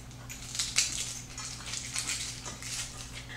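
Crinkly tearing and crackling as the papery outer skin is peeled off a medium yellow onion after its ends are trimmed, close up in a kitchen over a low steady hum, no talk.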